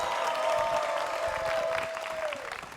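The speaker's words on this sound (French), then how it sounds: "et là, on va l'applaudir très fort." A television studio audience claps loudly and steadily for a guest from French Guiana. A sustained tone runs under the applause, and the clapping eases slightly near the end.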